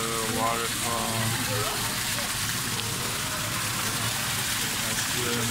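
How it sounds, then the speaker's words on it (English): A small waterfall inside a plant conservatory gives a steady, close rush of splashing water throughout, with a person talking over it. "A little waterfall."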